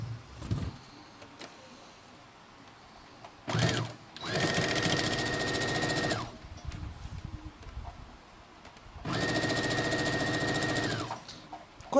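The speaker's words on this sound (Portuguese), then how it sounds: "eu vou fazer uma costura aqui em volta" Sewing machine stitching a seam around a fabric costume, running in three bursts of different lengths, a steady close mechanical whir with pauses and handling noise between.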